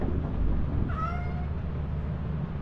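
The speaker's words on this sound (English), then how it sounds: "We need to sell the cats." A cat in the game Lethal Company gives a single short meow, clear against a steady low background hum.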